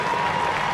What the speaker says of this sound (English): A standing ovation from not only the fans but players from both sides.